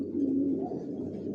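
Racing homing pigeons in a loft give a low, steady coo close by, with soft bird murmuring around it and no talking.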